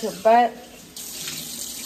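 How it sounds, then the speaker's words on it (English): Tap water runs into a cup, a steady close hiss and splash that starts after a short spoken word and continues to the end. "I'm about to get me a cup of water"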